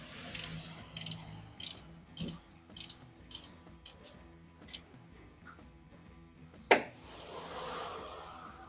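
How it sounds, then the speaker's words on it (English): Ratchet clicks from tightening the timing belt tensioner on a Toyota 3SFE engine, heard as repeated short bursts of rapid clicking close by, then one sharper knock and a brief rustle at the end. "Tighten down the tensioner."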